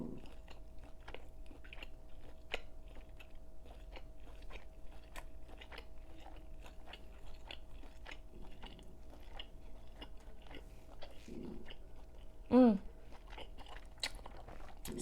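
Fried shrimp and crab balls are chewed close to the microphone, with soft repeated wet bites and crunches over a quiet background, plus a brief louder vocal sound near the end.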